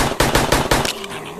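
Pistol gunfire in the Animals VS Zombies video game, about five rapid, loud, evenly spaced shots over roughly one second that then stop, leaving a fading echo.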